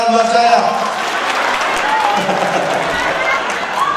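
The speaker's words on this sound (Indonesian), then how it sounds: "tepuk tangan buat saya" A stand-up comedy crowd in Banjarmasin claps and cheers at the comedian's request, a dense, steady wash of applause with chatter and shouts mixed in throughout.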